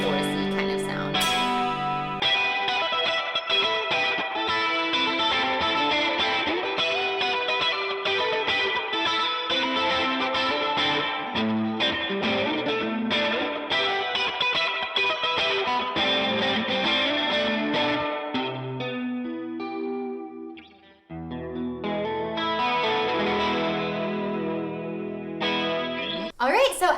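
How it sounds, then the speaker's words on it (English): Electric guitar played through a pedalboard with a chorus effect and stacked overdrives, giving a shimmering, modulated distorted tone that rings loud and continuous with a brief dip near the end before resuming. "maybe I'll try more of like a chorusy kind of sound."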